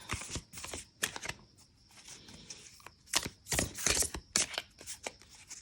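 Overhand shuffling of a thick-cardstock tarot deck with a finish that resists sliding, a series of quiet, close crisp card slaps and riffling bursts in irregular clusters, with soft rustling between them.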